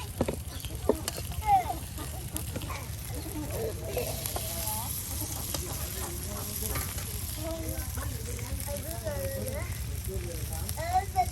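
Banana stem fritters frying in a little oil over a fire, a constant close sizzle and crackle with occasional stirring scrapes, while people talk over it throughout.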